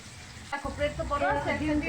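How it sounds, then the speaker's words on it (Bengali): Chicken fries in a pan with a steady sizzle, while people talk over it close by. "এখানে এখন চিকেন ফ্রাই হইতেছে"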